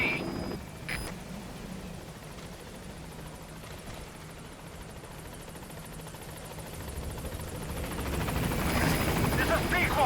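The Pequod helicopter from Metal Gear Solid V approaches a landing zone, its rotor drone steady, then growing louder and nearer toward the end, with a radio voice speaking over it.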